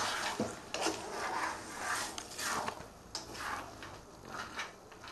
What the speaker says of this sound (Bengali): নাড়তে থাকবো এটা, যাতে তলায় লেগে না যায়।